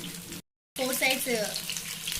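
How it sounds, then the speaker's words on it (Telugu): Masala fish fries in a pan on a low flame, a close, crackling sizzle that drops out for a moment and then returns with bubbling, spitting pops. "ఫ్రై మొత్తం ఓన్లీ లో ఫ్లేమ్లో పెట్టుకొని మాత్రమే ఫ్రై చేసుకోండి."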